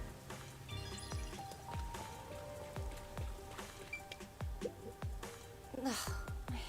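Steady rain from Master Detective Archives: Rain Code patters on surfaces in a continuous wash, with repeated low thuds and drips beneath it and brief chimes and tones over the top.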